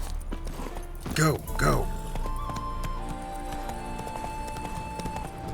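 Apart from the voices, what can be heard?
horse hooves clip-clopping in the video game Witcher 3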